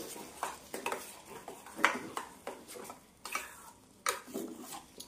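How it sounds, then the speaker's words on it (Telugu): A spoon scrapes and knocks against a pot while thick vermicelli upma is stirred as it cooks, quiet irregular clinks and scrapes in a steady rhythm, close up. "ఇది బాగా మనం కలుపుతూ ఉడికించుకోవాలి"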